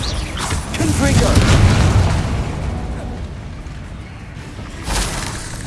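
Confringo spell blasts in the Hogwarts Legacy video game, a loud booming explosion that swells and rumbles for about two seconds, then fades, with a second smaller burst near the end.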